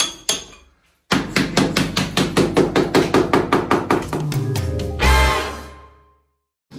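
Rapid hammer blows on a new bathroom wall, broken open to find a water leak: a fast, loud run of about twenty sharp impacts, then a grinding scrape of breaking material and rubble falling near the microphone.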